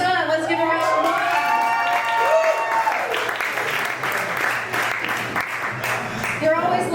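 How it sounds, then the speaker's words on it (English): Comedy theater audience applauding with some cheering, giving a steady wash of claps over several seconds, while voices and whoops rise above it near the start and end. "Let's give him a round of applause."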